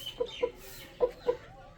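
Chickens cluck softly nearby, four short clucks in two quick pairs, against quiet background noise.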